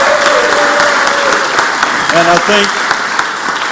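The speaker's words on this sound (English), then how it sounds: "Let's give them a big round of applause." Senate chamber audience gives a big round of applause for the Senate porters, steady dense clapping throughout with a brief word spoken at the start and a few tonal sounds mid-clip.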